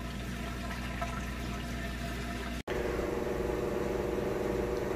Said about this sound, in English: And from here it goes into a spin mode once that water is drained.